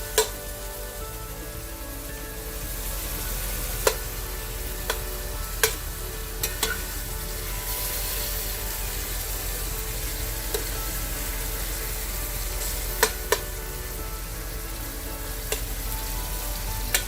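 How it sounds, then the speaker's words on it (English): Thinly sliced beef browns in a hot pan, with a steady, close frying sizzle that runs throughout and occasional sharp clicks of a utensil against the pan. "making sure everything is touching the pan and browning really well"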